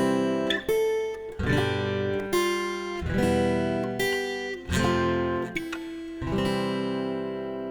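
Strummed guitar chords ring out in a steady pattern, with higher single notes picked between and over them; the playing is close and clear, without any voices.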